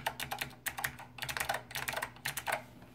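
Typing on a Monterey K2AX keyboard fitted with Blue Alps switches gives quick, uneven bursts of crisp clicky keystrokes. They sound close but quiet, with no voices.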